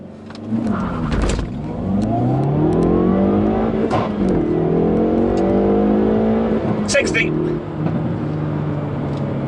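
Hyundai i30N Fastback engine pulling hard from a standstill on a straight road, revs climbing steeply through first gear, a quick upshift into second and more climbing revs, loud and close from inside the car.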